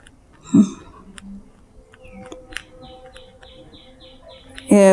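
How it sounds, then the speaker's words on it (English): Birds chirp outdoors in short, faint, repeated bursts over a quiet background, with a sharper sound near the start and a louder burst right at the end. "If you can hear the birds, they're a bit noisy."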